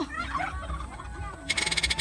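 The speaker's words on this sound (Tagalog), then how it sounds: "Yan, ang daming pabo." Turkeys gobble in a rapid, rippling burst near the end, after a stretch of mixed bird noise and low background murmur.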